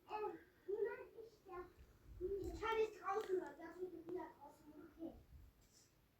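Children's voices chatter in a home kitchen during pastry baking, several young speakers talking and calling out at close to moderate distance in bursts, with some faint handling noises.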